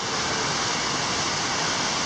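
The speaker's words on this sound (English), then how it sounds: "Directly across from the set of waterfalls here." Waterfalls on Blood Mountain Creek in the Georgia woods give off a steady, dense rush of falling water, continuous and even throughout, with no voices.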